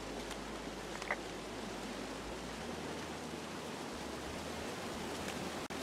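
Waterfall in the video game Firewatch, a steady, even rush of falling water filling the scene at moderate level, constant throughout with no voices.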